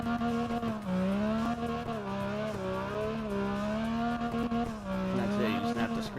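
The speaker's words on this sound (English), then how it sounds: "Carx does drift pretty good on its drift upgrade stuff" Car drifting in CarX Drift Racing with drift upgrades and tuned gear ratio: a sustained engine whine wavering in pitch, steady and loud throughout.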